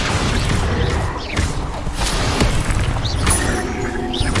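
Spell explosions in the video game Hogwarts Legacy: repeated booming blasts and crackling impacts that follow one another rapidly, loud and busy throughout, with brief whooshing casts in between.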